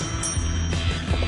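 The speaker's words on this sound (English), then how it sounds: "That bell doesn't sound loud." A small bell rings faintly in a radio talk-show studio, one thin sustained tone lasting well under a second before fading into the steady room noise.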